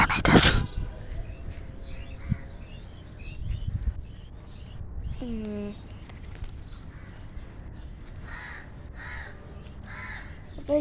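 Crows caw outdoors in a few clear, separated calls, one loud near burst at the start and others fainter, over a steady open-air background with a brief whistled tone in the middle.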